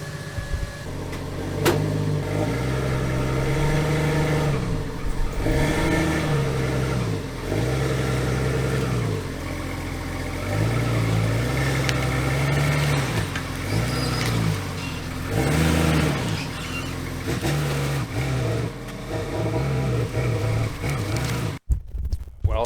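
Truck engine, unstarted since a snowy off-road trip months earlier, cranking and running with repeated rhythmic revs while backing out, a mid-pitched engine note rising and falling at close range, ending in a sharp knock.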